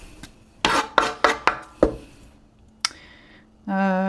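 A knife roughly chops an onion for curry on a cutting board, about six quick hard strokes in a loose rhythm, followed by a lone tap and then a steady motorized whir from a Thermomix kitchen machine starting up.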